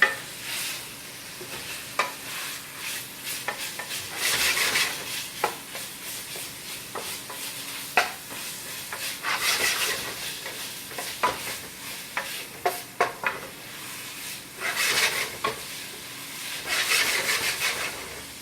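A spoon stirs spaghetti sauce in a pan, making intermittent scraping swirls and soft sizzling in irregular bursts over a quiet background, with no voices.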